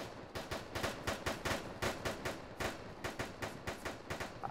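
Rapid, steady gunfire crackles in a video game, a continuous run of loud, evenly spaced shots and bursts with no talking.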